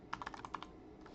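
A short burst of quick typing on a computer keyboard, about eight crisp keystrokes in rapid succession, close and clear over a quiet background.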